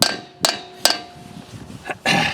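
A light hammer gives several sharp taps to seat a part on the tapered shaft of a Scott's lawn tractor, about five distinct knocks at irregular intervals, close and clear with no talk.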